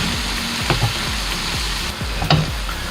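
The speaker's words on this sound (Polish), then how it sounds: "Więc smażymy dalej, zmniejszy jeszcze ogień." Vegetables with tomato paste sizzle steadily in a hot pan over lowered heat, with occasional spoon scrapes and stirs against the metal, close and fairly loud.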